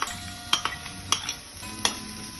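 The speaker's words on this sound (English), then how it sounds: "Now we'll add onion to this" Chopped onion hits a pan of browned dal seasoning with a soft, low sizzle, punctuated by several bright metallic clinks of a spoon against the pan, close by and with no voices.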